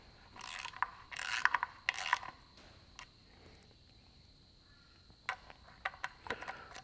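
Ratchet wrench tightening bolts on a Massey Ferguson 65 tractor while fitting the front crank seal, several quick bursts of clicking close by with short pauses between them, fairly quiet.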